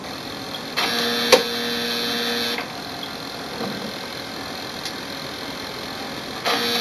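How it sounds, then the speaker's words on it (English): An HP OfficeJet Pro 9025 printer restarts after a firmware update, giving off a low steady mechanical hum with several short whirring bursts and a faint click, heard up close with no speech. "Once the update is completed, the printer will restart."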